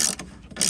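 Ratchet turning T45 Torx studs out of a Craftsman mower's rear bag door: a short burst of mechanical clicking, then a brief pause and another clicking burst, close up and fairly quiet.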